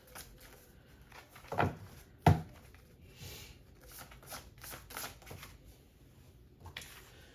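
Tarot message cards are shuffled in a few brisk riffling bursts, soft and close against a quiet room.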